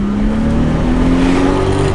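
A Datsun 280Z engine at wide open throttle, a loud, continuous droning roar with steady harmonic tone that rises slightly in pitch, close and dominant with no voices.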